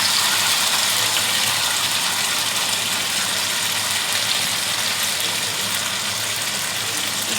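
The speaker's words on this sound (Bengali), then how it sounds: "একটু বাটি দিয়ে জলটা দিয়ে দিলাম।" Water tipped from a small bowl into a pan of curry with masala and green chilli paste, heard as a steady broadband gushing pour that runs the whole time without a break, close and fairly loud, with no talking.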